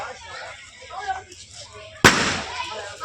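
A single sharp firecracker bang goes off mid-clip at a village Karthigai Deepam festival, close and loud, with its rumble trailing off, after a stretch of murmuring voices and background noise.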